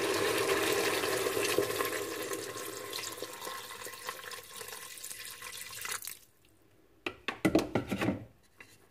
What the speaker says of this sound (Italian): adesso metto l'acqua